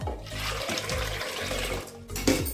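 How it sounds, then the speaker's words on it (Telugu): Water splashes and gushes steadily into a pot of washed lentils, a continuous pouring rush with a brief clatter near the end. "ఇప్పుడు మనం మంచి వాటర్ పోసుకోవాలండి"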